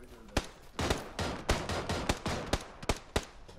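Gunfire in PUBG cracks out as about ten sharp, separate shots at an uneven pace, close and loud against a quieter background.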